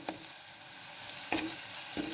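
Masala roasting in a pan with a steady, faint sizzle, broken by a few short scraping stirs near the start and toward the end.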